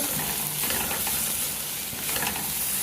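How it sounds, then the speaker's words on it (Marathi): Spring onion greens and garam masala are sautéed in a little oil, a steady, close sizzle with soft stirring scrapes running throughout. "एक छोटा चमचा आपण त्यात गरम मसाला आपण घालूया आणि हे जरा परतून घ्यायचं तेलात"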